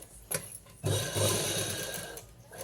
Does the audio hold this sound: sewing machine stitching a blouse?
yes